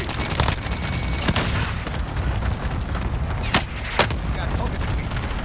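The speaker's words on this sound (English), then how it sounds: "Throwing allied grenade. Cluster strike inbound." Grenade explosions and a cluster strike in a video game, rendered as dense, continuous rumbling booms with several sharp blasts standing out, loud and close, under faint in-game radio voices.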